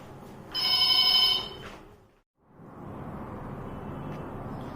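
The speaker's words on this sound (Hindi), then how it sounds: "बीच में फोन आ गया था" A telephone rings once with a bright, electronic trill lasting about a second, then cuts off, leaving faint room noise after a short silence.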